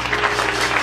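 A church congregation applauds in a short, dense burst of clapping that stays steady and fairly loud throughout.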